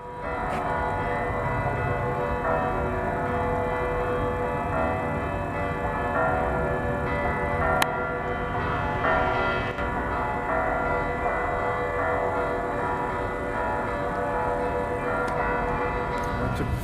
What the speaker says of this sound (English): The really ancient bells, and like loads of churches all going off at the same time.